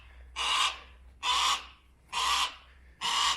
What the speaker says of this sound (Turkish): Evcil hayvanları kartal arkadaşlar.